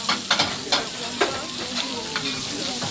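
Onions sizzle steadily on a restaurant griddle while beef steak cooks, a dense, close frying hiss broken by several sharp spatula scrapes and clicks.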